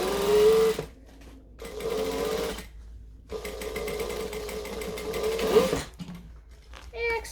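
A sewing machine stitches a bag pocket in several sustained runs broken by brief pauses where the needle stops to pivot, loud and close.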